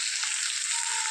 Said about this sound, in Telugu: ఆయిల్ హీట్ అయిన తర్వాత దొండకాయ ముక్కలను వేసుకొని